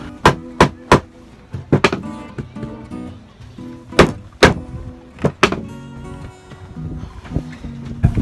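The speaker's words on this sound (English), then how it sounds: "I'm going to try and hammer with a soft mallet on top to try and push that bearing further on" Irregular dull thuds of a soft mallet striking a wood block to push a bearing onto an Amel sailboat's in-mast furling gear, some single and some in quick pairs, loud and close with short pauses between.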